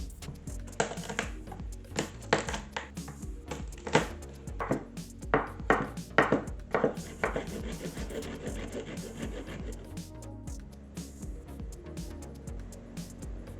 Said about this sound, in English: I am going to chop some garlic and grate some ginger